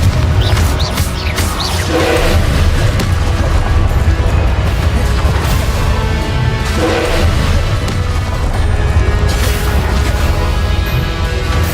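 Spell blasts from Incendio and Confringo in the Hogwarts Legacy video game, a dense run of booming crashes and bursts layered over continuous game sound and music, loud throughout without a break.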